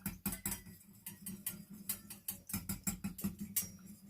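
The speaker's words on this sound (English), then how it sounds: "I'm going to whisk this with my whisker just to dissolve everything together." Homemade hand sanitizer mixture being whisked in a bowl, a quick irregular run of light clicking and tapping strokes against the container, fairly faint and close, with no talking.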